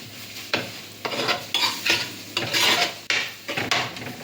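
Ingredients for a chicken curry are stirred in a pan with rhythmic, close scraping strokes about twice a second over a soft sizzle.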